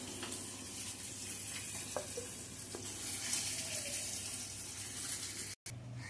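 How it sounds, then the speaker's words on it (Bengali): Water goes in a little at a time to a pan after green chilli paste has been added for a thin fish curry with cauliflower and potato, a steady soft watery hiss with a few light clinks and a brief cut near the end. "দিয়ে দিচ্ছি অল্প করে জল।"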